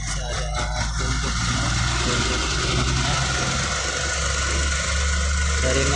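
A 1000cc engine in a 2011 Daihatsu Xenia Li Deluxe with a manual gearbox idles with a steady, slightly rough low drone. A rooster crows loudly nearby over the engine throughout.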